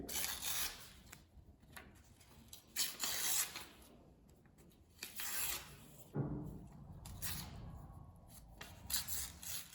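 Paper is torn in several short, rasping bursts separated by pauses, close and quiet, with no speech.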